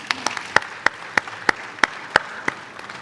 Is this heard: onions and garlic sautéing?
no